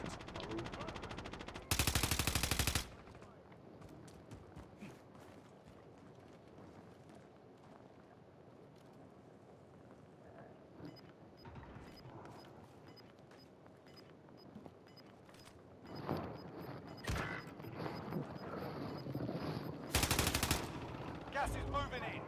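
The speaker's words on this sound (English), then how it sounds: "Who is that shooting?" Gunfire in Call of Duty: Modern Warfare Warzone: short bursts of automatic weapon fire, one loud burst near the start and another near the end, with scattered fainter shots and game sounds between.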